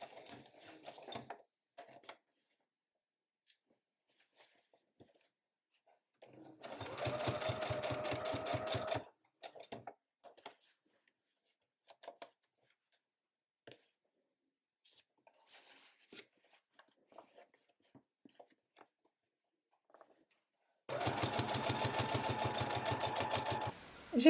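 A sewing machine stitches the neckband of a baby romper in two steady bursts of rapid mechanical whirring, separated by quiet handling noises and soft clicks.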